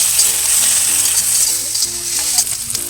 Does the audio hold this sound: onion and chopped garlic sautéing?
yes